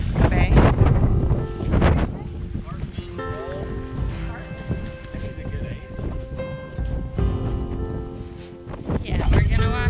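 Strong wind on a Bahamas shore buffets the microphone in heavy gusts and rumbles, with people talking over it throughout.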